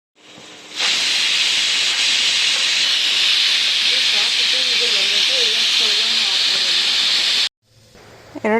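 A pressure cooker lets off a steady, loud steam hiss while tomato bath cooks on a home stove. The whistle runs continuously for several seconds and then cuts off abruptly, with faint talk in the background.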